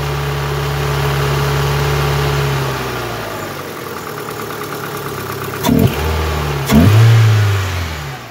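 An Opel Astra G coupé Bertone engine running near, its steady hum dropping away before two sharp revs surge up briefly, with no talk.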